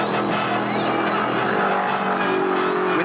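Two stock cars wound past the red line on the last lap of a race, engines screaming loud and steady down the back straight with a faint tire squeal, no voices.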